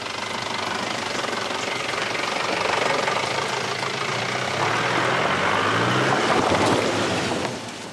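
A truck engine idles steadily as passengers board for a rough road, a continuous low rumble with rattling mechanical texture, close and fairly loud throughout, easing off at the very end.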